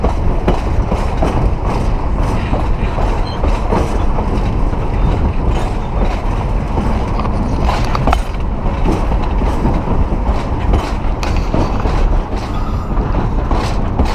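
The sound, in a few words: tourist train rolling on rails in Virginia City, Nevada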